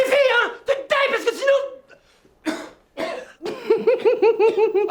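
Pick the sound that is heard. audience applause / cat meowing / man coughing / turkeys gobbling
man coughing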